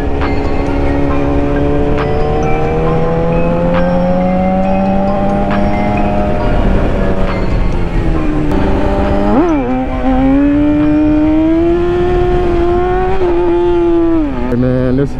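BMW S1000RR motorcycle with a Racefit aftermarket exhaust, loud and close, holding a steady high-pitched engine drone with rising and falling rev sweeps throughout.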